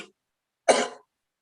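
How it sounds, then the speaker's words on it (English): A single sharp, loud cough from a person with a cough, standing alone after a brief faint sound at the start, followed by silence. "Because of this cough"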